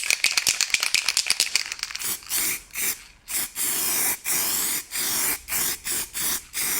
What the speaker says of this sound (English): I'm just going to coat this now in some prime so it doesn't rust over the weekend